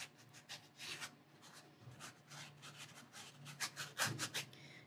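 A paint brush scraping paint onto canvas in short, repeated rasping strokes, close and quiet, each stroke a brief dry rub with small pauses between.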